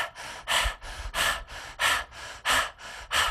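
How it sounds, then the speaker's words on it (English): Rapid rhythmic panting during Kundalini yoga breathwork, about nine sharp, forceful breaths in quick succession, close and steady, with no talking. "panting like a puppy"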